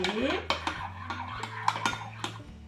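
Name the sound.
stirring flour into a mixture with a spoon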